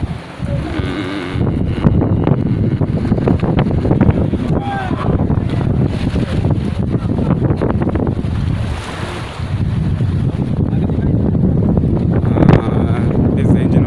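Strong wind on a lake in Kisumu buffets the microphone in a constant loud roar, with rushing water and a low boat-engine rumble beneath it.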